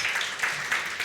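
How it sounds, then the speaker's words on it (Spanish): Church congregation applauding during a sermon, a brief continuous patter of many hands clapping at moderate volume, heard alone. "Alguien dele un aplauso al Señor."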